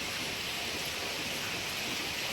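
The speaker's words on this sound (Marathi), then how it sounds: "सगळीकडे पाणी पडत हा" Steady hiss of rain falling, an even wash of noise with no breaks.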